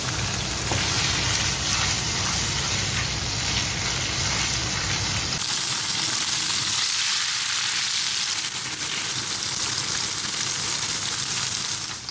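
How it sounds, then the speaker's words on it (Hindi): Tofu sizzles and fries in a small amount of oil in a pan, a dense continuous crackle that stays loud and close throughout, with no talking. "बहुत ही थोड़े से तेल में मैं फ्राई कर रही हूँ।"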